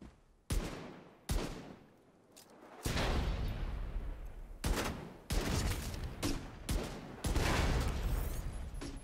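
Regulus exotic pistol firing in The Division 2, several loud, sharp single shots spaced a second or so apart, the later ones merging with fast bursts of other gunfire and explosions.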